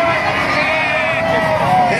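A large crowd gathered on EDSA, a busy Manila avenue, fills the air with a steady, loud babble of many voices close by, with no single speaker standing out.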